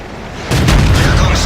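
A tank cannon snapshot fired at an M5 in World of Tanks, a sudden heavy boom that rolls on with a rumbling tail, loud and close.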